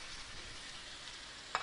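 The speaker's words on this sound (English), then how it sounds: "Put him in. Nice, sizzle." A pork chop fries in a pan, giving a steady, soft sizzle with a brief clink near the end.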